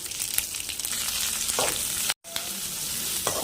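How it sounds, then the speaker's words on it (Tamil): Onions and green chillies sautéing in hot oil over high flame, a continuous close sizzle with scraping stirs and one brief dropout, no voices. "ஹை ஃப்ளேமில் வச்சுக்கிட்டு வெங்காயத்தை ரெண்டு நிமிஷம் நல்லா வதக்கி எடுத்துக்கோங்க"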